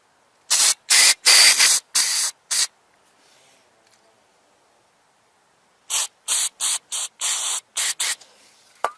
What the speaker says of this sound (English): Just spray some of this